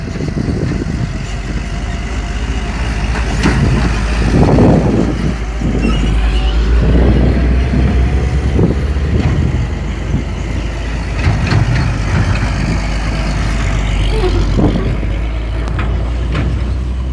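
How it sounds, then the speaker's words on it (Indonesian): Heavy trucks rumble back and forth at a toll road construction site on the Padang–Sicincin route, a loud continuous engine drone with brief air-brake hisses and passing swells throughout. "kita lihat cukup banyak sekali truk yang hilir mudik menuju lokasi rest area atau Bukit Aneh"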